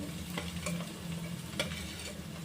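Capsicum pieces frying in hot oil, a steady sizzle under scattered taps and scrapes of a spoon stirring the pan, close and moderately quiet with no talking.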